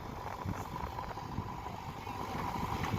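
A JCB excavator loading soil into a tractor trolley, heard as a steady low engine drone with scraping and rumbling, continuous and moderately near with some wind noise.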